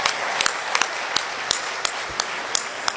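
An audience at a Haryanvi comedy poetry gathering claps, with sharp individual claps popping out in an uneven rhythm over a bed of scattered applause.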